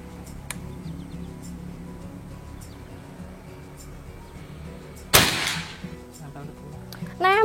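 Sharp crack of a shot from a PCP air rifle, a Predator Escobar with a boxed plenum, during a long-range accuracy test, one loud impulse standing out with a short decay after quiet outdoor ambience.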